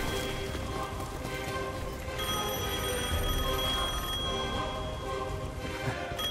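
A telephone rings in Devil May Cry 5, its steady electronic tones standing out over dense game ambience, noise and background sound effects, with no talk.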